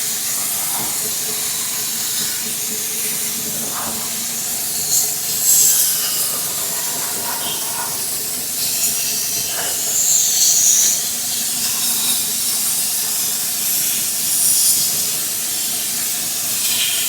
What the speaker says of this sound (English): We are going to use the pump to spray it on the entire engine.